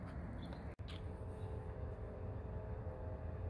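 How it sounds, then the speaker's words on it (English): A Norfolk Southern train rumbles steadily in the distance, a low continuous drone with faint higher tones, broken briefly by a short dropout. "I don't know if you guys can hear that train coming"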